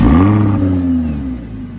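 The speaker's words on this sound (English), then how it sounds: "I'm going to let you turn it on so they can hear the exhaust" A Lamborghini Huracan engine rumbles loudly through its exhaust, a strong steady roar that sags slowly in pitch as the revs settle, close by with no talk over it.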